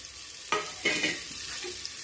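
Chopped onions frying in oil with cumin seeds, a soft steady sizzle marked by a few scraping stirs of the spoon, close but quiet, with no one speaking.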